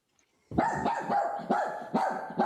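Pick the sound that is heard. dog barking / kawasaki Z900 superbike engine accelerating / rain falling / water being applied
dog barking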